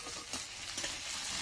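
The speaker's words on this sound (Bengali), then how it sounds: "টমেটোটাও একটু ভেজে নেব, যাতে কাঁচা গন্ধটা চলে যায়" Chopped tomato frying and being stirred in oil in a pan, a steady close sizzle with soft scraping stir strokes throughout, no voices.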